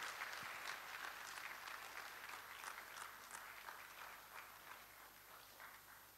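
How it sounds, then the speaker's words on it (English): An audience at the Ghana College of Physicians and Surgeons annual general and scientific meeting claps steadily, a broad wash of many hands sustained at moderate volume and slowly tapering. "Please, a stronger clap, please."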